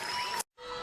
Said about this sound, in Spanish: La despedimos a Dalila con un fuerte aplauso.